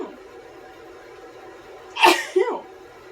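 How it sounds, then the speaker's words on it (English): A sharp, loud sneeze close by, followed by a smaller second burst, breaking through a quiet steady background hum. "I'm about to sneeze."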